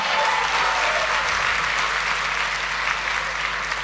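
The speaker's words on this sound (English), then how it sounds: "A thunderous round of applause once again." A room full of people at a tech conference gives sustained, dense applause, steady and loud throughout with no talking over it.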